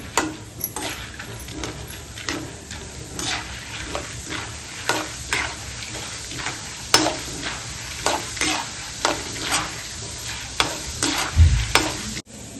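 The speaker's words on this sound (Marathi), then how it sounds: "आता ही भाजकी डाळ घेते, ती जास्त तळू नका, ती ऑलरेडी भाजलेली असते" Pre-roasted dal fries briefly in oil for poha chivda. A constant close sizzle runs under rhythmic spoon strokes against the pan, roughly one every half second, ending with a louder knock.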